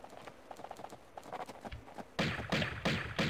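Horse hooves of a mounted rider enemy in the 1996 Tomb Raider video game clop in a quick galloping rhythm, starting lighter and then turning into louder, heavier repeated hoofbeats.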